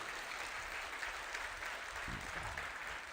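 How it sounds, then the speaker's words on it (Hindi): Audience at a Hindu religious gathering clapping together, a steady, distant wash of applause with a brief low murmur partway through. "बोले पंडोगर सरकार की ताली बजा बढ़िया से, बढ़िया प्यारी से सुंदर ताली।"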